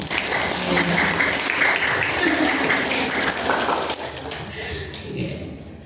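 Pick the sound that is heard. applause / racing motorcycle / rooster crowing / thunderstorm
applause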